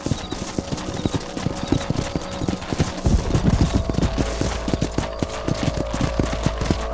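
Horses gallop in the video game Red Dead Redemption, with a rapid, loud clip-clop of hooves that picks up and grows heavier partway through, over a low rumbling background.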